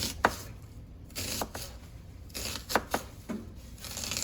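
An onion is sliced with a knife on a cutting board, giving a handful of sharp, irregular chops up close with quiet gaps between them and no talk.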